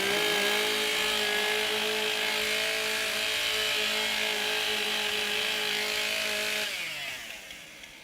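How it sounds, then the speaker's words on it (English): STIHL chainsaws revving at high throttle during warm-up at a timbersports championship, a loud sustained whine with strong harmonics that drops and fades as the engines ease off near the end. "Warm up your saws."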